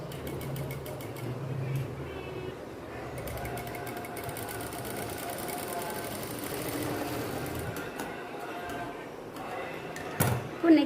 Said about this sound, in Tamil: அந்த செயின் ஸ்டிச் மேலேயே தைச்சிட்டு வாங்க